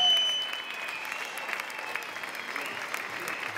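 Theatre audience at a village cultural-week play in Spain applauding during the curtain call, a sustained even wash of clapping from the crowd that swells briefly at the start.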